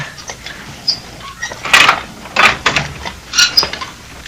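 A door is opened and closed as a sound effect in a 1974 radio mystery drama, giving a few close clicks, a latch and creaking handling noises with quiet gaps between them.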